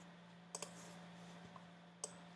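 Computer mouse double click: two quick, faint taps close together, followed by a single quieter click about a second and a half later, in an otherwise hushed room.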